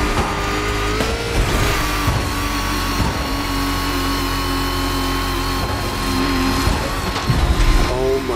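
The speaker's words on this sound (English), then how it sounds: "You're driving an actual concept car." A Volkswagen ID buggy concept car in The Crew Motorfest racing game drives with a steady engine drone and occasional revving shifts, its tone rising and falling.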